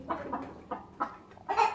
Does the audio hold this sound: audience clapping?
no